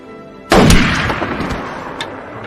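A single sharp pistol shot bursts out loud and close in a tense film scene, followed by a brief rumbling decay and a faint second crack.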